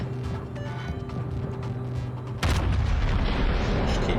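Heavy battleship guns firing in World of Warships during a Musashi match, with a continuous engine and ambient rumble, then a sudden loud, deep broadband blast at the halfway point that lingers as a roaring tail.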